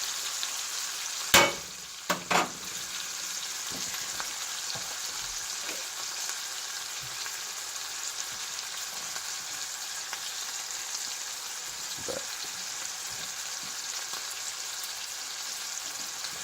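Burgers frying in a pan give a steady, even sizzle throughout, with a few sharp clatters near the start as the patties are moved or flipped.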